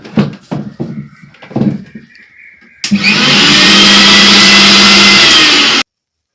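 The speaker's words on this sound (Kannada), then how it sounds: "ಆಮೇಲೆ ನಾನು ಹೋಗಿ ಮಿಕ್ಸಿ ಆನ್ ಮಾಡ್ತೀನಿ." A kitchen mixer grinder switches on abruptly and runs loud and steady for about three seconds, then cuts off, after a short stretch of talk.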